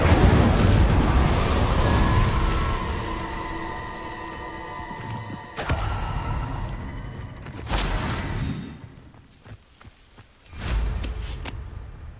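Spell blasts and explosions from Hogwarts Legacy burst out in a series of loud booms and crackling impacts, separated by brief quieter gaps.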